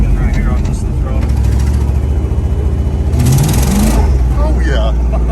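A custom Ford Ranger with a 5.0 V8 and Flowmaster mufflers by the rear axle revs loud and close, with a deep continuous rumble that swells into a brief harsher burst near the end, while people talk over it.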